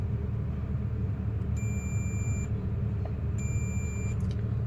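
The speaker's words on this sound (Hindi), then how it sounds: "यहाँ जैसे मैं प्रेस कर रहा हूँ तो बीप नॉइज दे रहा" A continuity tester beeps while checking a car's signal horn relay circuit for an open or short to ground, giving two steady high electronic tones of about a second each over a constant low rumble.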